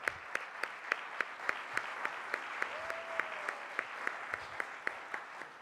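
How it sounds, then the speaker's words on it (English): An audience at a morning session of an international conference on love and service claps to welcome a speaker, the claps landing in a steady, even rhythm, as if in unison, for several seconds. "let's all welcome her with a big round of applause"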